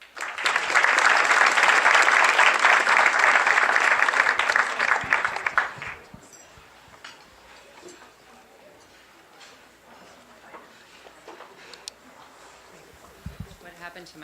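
Loud, steady audience applause welcoming speaker Christine Handy fills the first six seconds, then fades into quiet room noise with scattered footsteps and light knocks.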